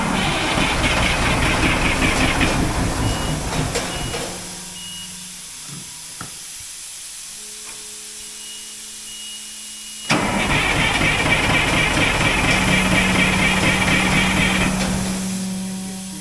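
An Oshkosh 8x8 M1070 HET heavy truck, long inoperative and left for scrap, cranks and runs loudly, cuts out into near silence with faint beeps, then restarts with a sudden roar and settles into a rough, steady diesel idle.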